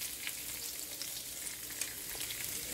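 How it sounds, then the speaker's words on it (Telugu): Dried red chillies and spices spluttering in hot oil for a spicy tomato dal, a steady fine crackling sizzle heard close and alone, with no voices. "ఇవన్నీ వేసి ఒకసారి కలుపుతున్నాను. చిట్పట్ చిట్పట్ ఉంటుంది."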